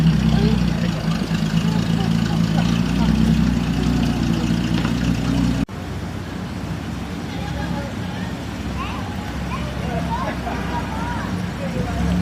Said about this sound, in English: A HR Holden Premier driving on the footpath.